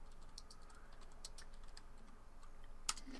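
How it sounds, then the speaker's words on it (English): Rapid typing on a computer keyboard, a quiet run of light clicking keystrokes with one sharper tap near the end, heard on its own. "this is going to require some typing"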